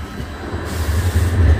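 An Edinburgh tram on a city street, heard as a steady low rumble that builds and grows louder through the moment as it passes close by, with no talking over it.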